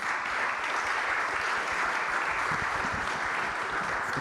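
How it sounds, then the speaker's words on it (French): A conference audience gives sustained applause, a steady wash of many hands clapping at a constant level with no pause. "On peut les applaudir à nouveau."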